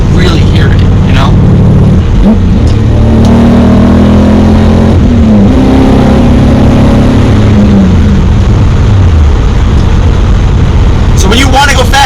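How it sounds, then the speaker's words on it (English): A BMW E30 fitted with an S62 engine accelerates hard, its loud exhaust note rising and falling in pitch through the gears, heard from inside the car with a voice talking over it. "But then when you get on it, it actually is a lot louder, and then that's when when you can really hear it"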